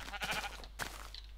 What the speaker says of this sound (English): Oh shit, I hit the cow.